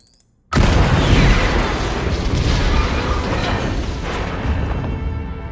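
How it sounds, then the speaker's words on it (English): A sudden deep boom bursts from near silence, then a long rumbling roar that stays loud and slowly tapers, like a distant blast rolling outward. "Baze saw an explosion off in the distance."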